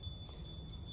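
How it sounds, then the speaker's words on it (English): An RD9100 radiation detector, disturbed by static near an electrostatic ball, gives off a high, thin electronic tone that holds steady through the moment with no voices. "the RD9100 will get affected by the static and it begins to beep again"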